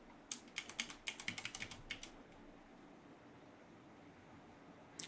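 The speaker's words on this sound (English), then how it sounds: "what happens if I type in my personal email address?" Quick bursts of keystrokes on a computer keyboard as an email address is entered, a close rapid run of clicks lasting about two seconds, then quiet room hiss.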